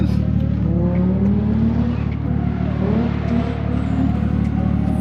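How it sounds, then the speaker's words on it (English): A car's engine revs loudly and steadily during burnouts, the pitch rising and falling in repeated sweeps over a constant rumble, close up and with no talking. "So now it's my turn to do some burnouts."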